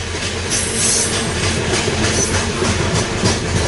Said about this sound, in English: this is an eastbound loaded coal drag on the Union Pacific Transcon line